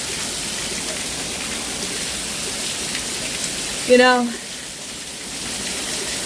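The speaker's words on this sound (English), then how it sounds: "I'm trapped outside in the rain." Steady rain falls outdoors, making a constant hiss across the whole stretch, while a person briefly speaks partway through.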